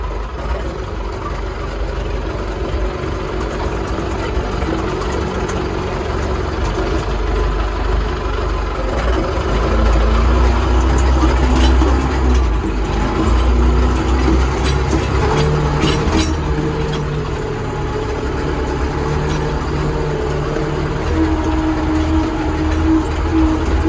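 A Kata KE504 vehicle drives off in reverse, giving a continuous low engine rumble with road and rattling noise that holds steady and near throughout, with no speech.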